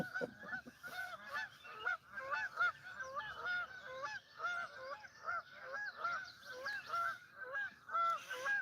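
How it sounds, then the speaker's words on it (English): A flock of geese honks repeatedly at a lake while catfishing, with overlapping nasal calls in an uneven rhythm that sound moderately distant and fairly faint. "We got geese all over the place."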